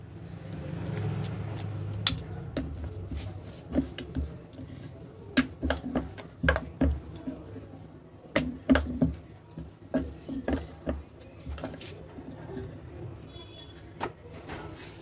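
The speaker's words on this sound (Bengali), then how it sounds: "আমি আরেকটা বেলে নিচ্ছি।" A rolling pin works gently over stuffed flatbread dough on a board, making a steady run of soft rumbles broken by light clicks and knocks as the pin shifts, close and low in volume.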